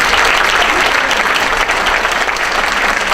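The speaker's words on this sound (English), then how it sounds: "Let's give them another round of applause." An audience at a school board of education meeting applauds students, loud sustained clapping filling the room from start to finish with no talking.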